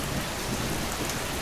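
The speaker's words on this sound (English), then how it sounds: "Salty and Fergus were fighting on the roof with rain and wind." Steady heavy rain pours in a wind storm with a broad hissing roar, wind-like and unbroken, no voices present.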